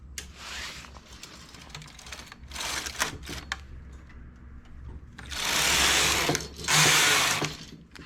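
Domestic knitting machine carriage sliding across the needle bed while shaping a trapezoid cuff, a series of loud whirring, clattering passes of about a second each, with quieter gaps of needle handling between them.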